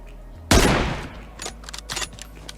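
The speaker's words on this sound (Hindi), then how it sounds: "सामने फायरिंग सुन के मैं उनके पीछे जाता हूँ" Gunfire in the PUBG video game: a sudden loud blast bursts out, then fades into a rapid scattering of shots and several smaller cracks, some of them farther away.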